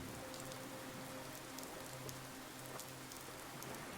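Steady rain falls by the seaside, a soft, even patter of drops on surfaces with a faint low tonal hum beneath, continuous and calm throughout.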